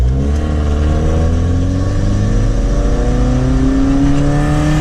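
A cheap used Volvo's engine revs hard as throttle is applied, a loud, steady drone whose pitch rises gradually, heard up close without any voices.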